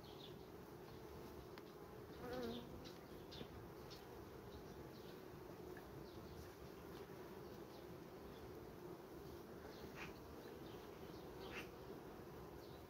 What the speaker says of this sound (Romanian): Este albinuță